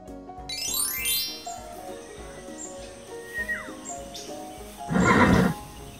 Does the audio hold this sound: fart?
no